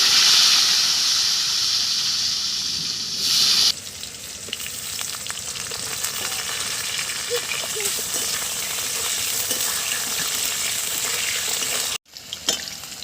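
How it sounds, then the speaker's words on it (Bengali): Cut potatoes hit hot oil tempered with cumin seeds, setting off a loud, steady sizzle that continues for several seconds with occasional stirring, before a brief break and resumption. "জিরে ফোড়ন দিয়ে দিচ্ছি। কেটে রাখা আলু দিয়ে দিচ্ছি।"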